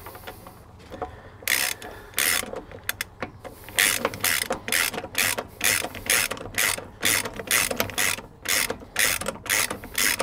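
A ratchet tightening the wheel bolts on a Ferrari 458, close and loud repeated rapid clicking bursts in quick runs with short pauses between, alone without speech.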